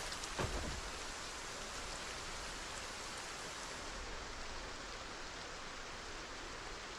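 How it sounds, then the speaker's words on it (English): Steady, loud rain in the zombie survival game Project Zomboid, a dense continuous hiss with a few brief drop ticks near the start, no voices. "Oh, the rain is so loud."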